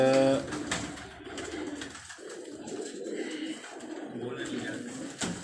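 Pigeons cooing on a Karachi rooftop, soft low coos repeating under people talking nearby, with a short tonal voice sound at the very start.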